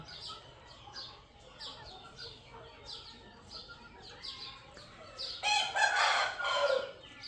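A Pakistani Aseel rooster crows and clucks in repeated short calls, a loud burst of crowing rising near the end over faint background noise.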